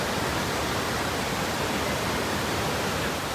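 Steady rain pours during a motorcycle ride on a rocky road in Cotabato, a dense, even hiss filling the whole stretch without a break and with no voices.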